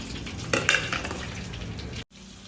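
Chopped onion tipped into curry leaves frying in oil for an eggplant kara kuzhambu, then stirred: a steady close sizzle with a few spoon-and-pan scrapes early on, cutting out briefly near the end.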